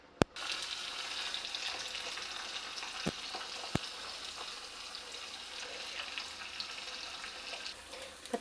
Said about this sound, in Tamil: இது பக்கத்தில் மீன் பொரிக்கிறதுக்கு எடுத்து வச்சிட்டேன்.